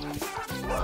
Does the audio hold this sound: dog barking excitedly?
yes